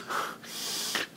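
A man imitates blowing a badly stopped-up nose: two sharp, breathy snorting blasts separated by a short pause, close and fairly loud, with no words spoken.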